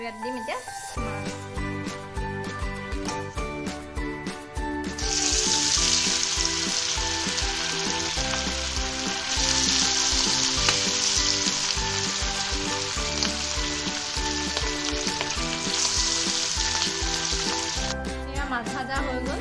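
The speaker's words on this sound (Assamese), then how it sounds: "এতিয়া তেল গৰম হৈ গ'ল আৰু ইয়াত দিম এতিয়া মাছ" Fish dropped into hot mustard oil in a wok, bursting into a loud, close, steady sizzle with occasional clinks of a utensil, while music plays throughout.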